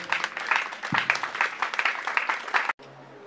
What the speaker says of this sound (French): Applaudis une fois de plus pour Gisèle.